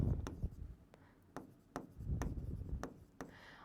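A marker or chalk writes on a board during a physics lesson on Maxwell's distribution, with short scratchy strokes and taps in an uneven rhythm, close and fairly quiet.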